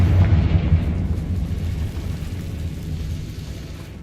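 A Confringo spell explosion in Hogwarts Legacy, a heavy low rumbling blast that hits hard at the start and slowly fades over several seconds, with no talking.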